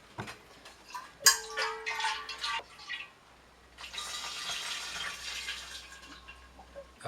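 Rinse water is poured out of a glass wine bottle during home winemaking. The water splashes and gurgles in two bursts, a short splashy pour and then a longer steady stream, close by and with no talking.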